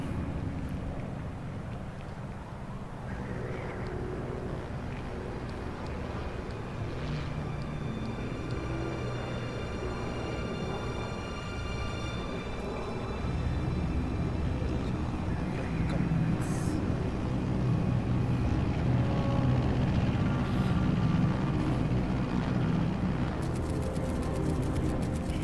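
Aircraft cruising at altitude in Metal Gear Solid Delta, a steady low rumbling drone of engine and wind that swells slightly toward the end, continuous and fairly loud.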